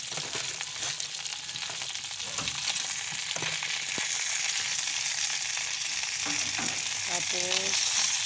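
Crab fries and is stirred in a pan, giving a steady loud sizzle with scattered scraping and clinking from the stirring and a few brief squeaky scrapes near the end.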